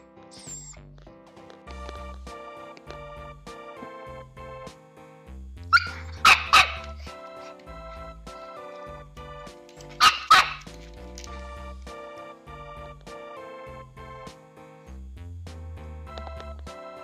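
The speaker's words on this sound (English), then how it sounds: "Because you're barking." A six-month-old chihuahua gives two short bursts of sharp barks, fairly close, over steady background music with a low rhythmic beat.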